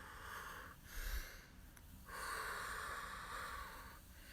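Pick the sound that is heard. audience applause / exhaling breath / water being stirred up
exhaling breath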